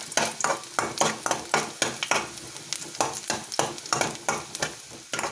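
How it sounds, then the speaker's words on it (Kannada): Garlic fries in hot coconut oil with a loud, continuous sizzle, broken by quick, rhythmic scraping strokes of stirring close by. "ತೆಂಗಿನೆಣ್ಣೆ ಬೆಸಿಯಪ್ಪಗ ಬೆಳ್ಳುಳ್ಳಿ ಲಾಯಕ ಕೆಂಪು ಬಣ್ಣ ಬಪ್ಪನಾರ ಹೊರಿಯ ಬೆಳ್ಳುಳ್ಳಿ, ಇದು ಕೆಂಪು ಬಣ್ಣ ಬಪ್ಪನಾರ ಫ್ರೈ ಆಗಲಿ."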